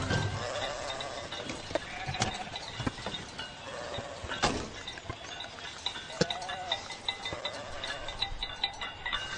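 A flock of sheep bleats repeatedly at close and middle distance, overlapping calls over a busy outdoor din, with no talking.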